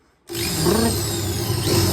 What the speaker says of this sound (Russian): Я просто взял сверло побольше, надел на дрель